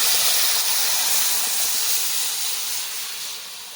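Boiled dal and vegetables hit hot oil with ginger paste, producing a loud, close, hissing sizzle that holds steady and then gradually eases.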